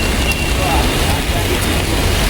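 Steady broadband hiss of the first rain of the season falling in Goregaon, an even, continuous wash with no distinct drops standing out.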